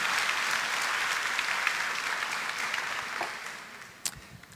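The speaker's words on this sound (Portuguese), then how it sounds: "Vamos aplaudir uns aos outros" An audience claps for each other at a talk on love in crisis, a steady dense wash of applause that slowly thins and fades, with a few last sharp claps near the end.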